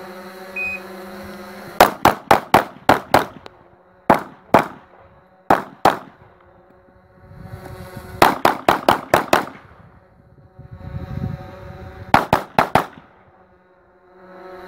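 Gunshots on an IPSC practical shooting stage, sharp loud cracks in quick bursts of several shots with pauses between strings, preceded by a short start beep, outdoor range ambience between volleys.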